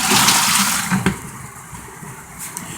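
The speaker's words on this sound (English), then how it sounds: "And again, you can watch it agitate for the rinse cycle." Small portable washing machine agitating through its rinse cycle, a loud sloshing churn of water at first that drops to a quieter watery hum, close and without talk.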